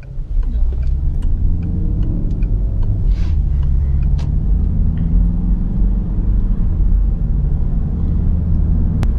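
A 2013 Peugeot 508 Hybrid drives along with a steady low rumble from inside the cabin and light ticking over the top, while a person talks.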